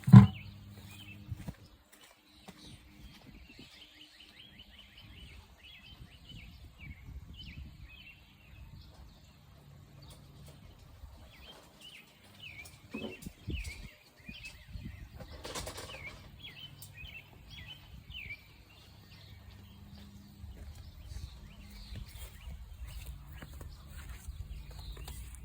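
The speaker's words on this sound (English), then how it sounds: "I hope you enjoyed the birds while I was away." Birds in a home garden give faint, scattered twittering chirps and short trills, with soft low rustling and occasional thumps beneath.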